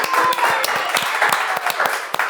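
Studio audience clapping for actress Laverne Cox, a quick burst of dense, close claps with sharp individual hand strikes over a short stretch.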